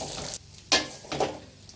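Grated carrot fries in ghee with bursts of sizzling and stirring scrapes, short uneven hisses rising and falling close by.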